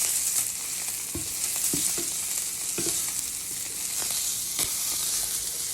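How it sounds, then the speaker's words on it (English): Sausage frying in a pan where butter has already been melted, giving a steady broadband sizzle and crackle with small pops and a few stirring clicks and scrapes, close and continuous, with no talking. "I'm just frying some sausage."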